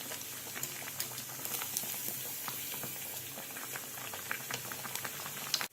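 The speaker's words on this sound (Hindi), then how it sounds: "दूसरी बाजू तल लेते हैं" Sabudana vadas deep-frying in hot oil, a dense, steady bubbling sizzle with scattered crackling pops, moderately loud and continuous with no voices.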